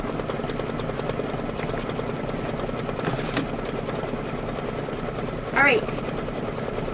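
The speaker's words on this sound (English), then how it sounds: "we're just going to hit start again, and then it's going to do the stitching the same" An embroidery machine running a Kimberbell stitching pattern hums with a rapid, steady needle rhythm close by, briefly joined by a person speaking and a short rising whir.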